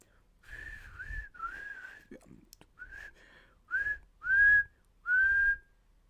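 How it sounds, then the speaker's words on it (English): A person whistling a short series of tones, about seven separate notes with gaps between them, some sliding upward, close and clear, with a faint vocal sound in the middle. "Can I whistle?"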